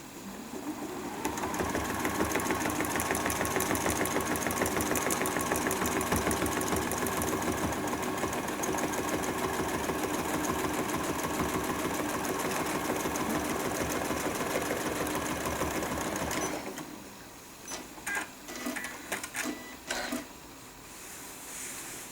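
A sewing machine runs steadily in free-motion stitching for bleachwork with no foot pedal, its whirring motor constant for about fifteen seconds before breaking into short stop-start bursts near the end.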